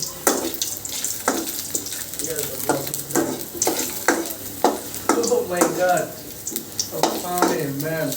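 Food stirred while frying in oil in a pan, a steady crackling sizzle punctuated by repeated scraping strokes of a spoon against the pan, close and fairly loud, with no talk.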